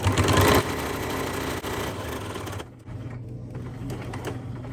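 A sewing machine runs a steady whirring stitch through the fabric of a small earbud pouch. It is loud for the first half second, then continues more softly and evenly to the end, with no talking.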